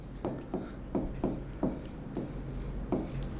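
Chalk or marker strokes on a board while Hindi words for a chemistry lesson on emulsions are written, a series of short scratchy strokes at an irregular pace, close and fairly quiet, with no talking.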